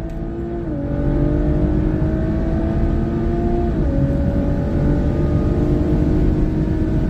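A stage 3 Audi B9 S5 Sportback on E85 launches hard down a quarter-mile strip at reduced boost, its engine note rising steadily through loud sustained pulls with gear shifts stepping the pitch down, close and alone.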